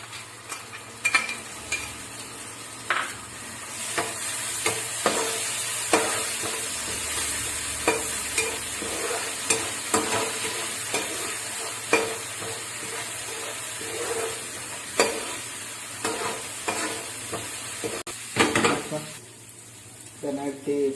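Red chili paste fries in a pan with a close, steady sizzle, broken by repeated scraping and stirring knocks against the metal.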